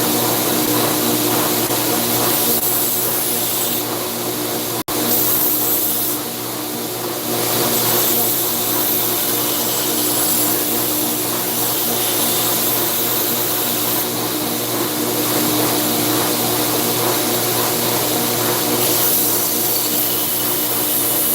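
A grinder works steadily on a knife blade, giving a loud, continuous whirring hum that runs with only a brief dip, and no talking.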